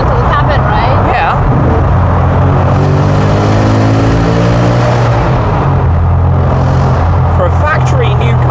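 A Ford Mustang Dark Horse engine and exhaust while driving: loud, steady, low droning rumble with a fluttering character that swells and eases, heard from inside the car as people talk over it.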